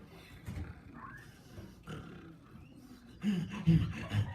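A storyteller's voice imitates a troll roaring, a rough growling roar that swells louder near the end, delivered alone during a telling of the Three Billy Goats Gruff.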